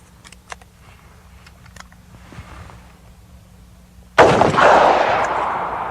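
.357 jacketed hollow point round fired at a test target: after a quiet stretch of faint clicks and handling noises, a single sharp, loud gunshot cracks and rings out into a long reverberant decay.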